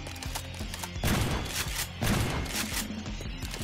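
Gunfire aimed at a monster on the Hell's Prison horror map in Garry's Mod, dense rapid volleys of shots with thumping low impacts, loud and continuous with two stronger bursts.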